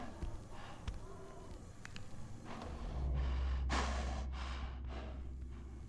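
Volatile zombies in the Dying Light video game give heavy, huffy breaths and gasps at night, a run of harsh snorting exhalations building toward the middle over a low rumble, fairly faint and with no speech.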